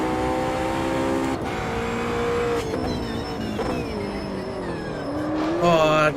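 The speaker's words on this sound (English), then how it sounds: "Oh, keep on locking the brakes up." In Automobilista 2, a GT3 car races at Bathurst with a loud, sustained engine whine that shifts in pitch. Its brakes lock up, with tyre squeal layered over the engine and a brief rise in revs near the end.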